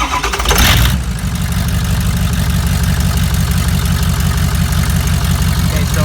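A turbocharged engine idles steadily and loudly right after starting, with a rumbling low throb and faint rhythmic ticking throughout; the serpentine accessory belt is off and one cylinder runs low.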